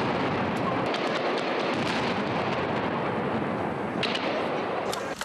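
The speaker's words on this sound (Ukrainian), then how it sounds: "Потім ще 5 годин в районі Аркадії лунали постріли." Gunfire cracks out around a private hotel in the Arkadia district of Odesa during a police assault, shots and heavy bangs rolling over a dense, continuous roar with no voices.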